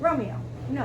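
A dog whimpers and yips twice in quick succession, close by, with a rising, whiny pitch, as a person speaks to it at the same time.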